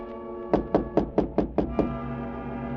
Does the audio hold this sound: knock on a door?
yes